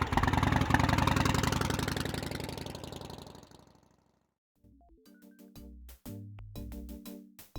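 Motorcycle engine in the Gabriel Knight video game, idling with a steady pulse and then fading out to silence, after which a few short tonal game sounds follow.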